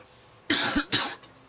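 Two harsh coughs from someone with a cold, in quick succession, close and fairly loud, with quiet room tone before and after.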